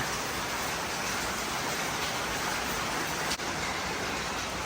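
Steady, dense hiss of heavy rain pouring continuously during a flood, loud and close, with no voices over it.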